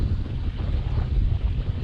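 Wind roars steadily at sea aboard a sailboat off Nicaragua, buffeting the microphone in a constant low rumble with a faint wash of water beneath, loud and unbroken, with no voices.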